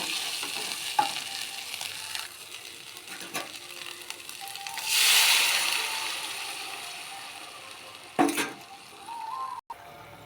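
Spice masala for a prawn and poppy-seed curry is fried and stirred in a pan, with a steady sizzle, scraping strokes, a louder hiss burst midway and a few utensil clinks.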